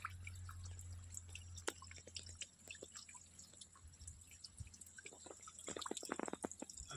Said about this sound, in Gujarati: નીચે ડાયરેક્ટ છોડવાની, અંદર પડે પાણી, ધીરે ધીરે પડ્યા રાખે